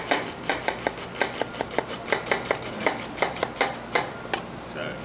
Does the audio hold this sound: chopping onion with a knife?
yes